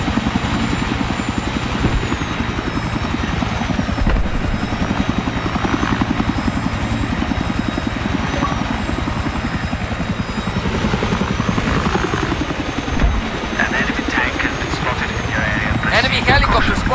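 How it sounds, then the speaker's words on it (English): Enemy helicopter in the Battlefield 3 video game, its rotor throbbing in a loud, steady rapid chop that continues throughout, overlaid with game sounds and some voice activity. "I spotted an enemy chopper."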